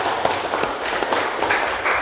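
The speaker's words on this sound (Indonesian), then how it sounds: "tepuk tangan." Students in an Indonesian school classroom burst into a short round of applause, a dense patter of many hands clapping steadily for about two seconds with no pause.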